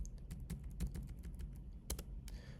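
Rapid keystrokes on a computer keyboard click close and quick in an uneven run, over a low steady room hum, with no one talking.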